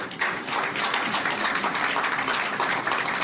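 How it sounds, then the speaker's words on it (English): Delegates at a maritime workers' union national conference applaud the dignitaries at the high table, steady dense clapping from a large crowd filling the room for several seconds. "You can clap more, you can do more for them."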